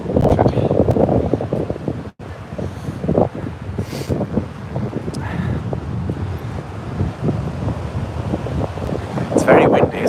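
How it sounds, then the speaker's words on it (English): Strong wind buffets the microphone at a beach in Wales, a steady loud rumble with gusts throughout, while a person talks intermittently over it. "It's very windy, isn't it?"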